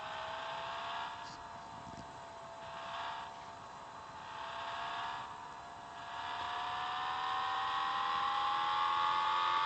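Car engine revving at full throttle in the Public Transport Simulator video game, a steady droning whine with rising pitch, fairly quiet and continuous, with no talk over it.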